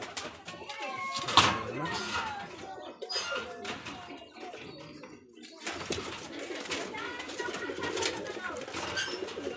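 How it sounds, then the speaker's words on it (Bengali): Rajshahi Giribaz pigeons coo and rustle at a pigeon farm, with soft repeated calls close by and people talking over and between them. "কবুতরের খালি কোয়ালিটি গুলা দেখেন একটু।"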